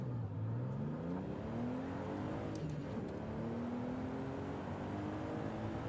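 Engine of a car in a racing video game speeding down a mountain road, a steady continuous drone with rising and falling pitch sweeps as it accelerates and shifts, close and loud throughout.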